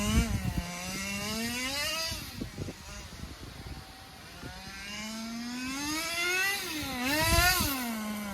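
A Thunder Tiger TS-4n nitro RC car engine fitted with a plastic exhaust pipe buzzes and whines, rising and falling in pitch as it revs and eases off along a driveway, moderately loud and fairly close, with no talk.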